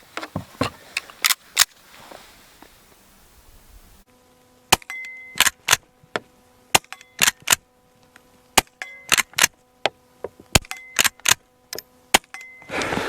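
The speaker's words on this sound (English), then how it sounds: "Well, you don't even really need hearing protection with those longs just barely make a little pop." A small-frame Colt Lightning firing long cartridges, producing a series of sharp, short pops, several in quick succession with gaps between, fairly close but not very loud.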